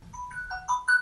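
A telephone rings in short repeated electronic tones, fairly close and alone, with no talk over it.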